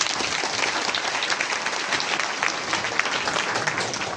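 Loud, dense applause from a crowd at a Warkari literary gathering in Tuljapur, a steady wash of clapping that continues throughout without pause.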